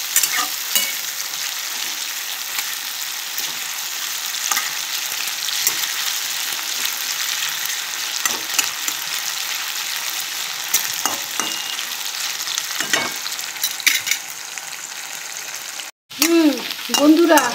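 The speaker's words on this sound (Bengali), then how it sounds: "এই যে দেখো বাঁধাকপি আলুটা ভাজা হয়ে এসছে" Cabbage and potato frying in a pan, a close, steady sizzle with repeated spatula scrapes and stirs running throughout, a brief dropout near the end followed by more clattering stirs.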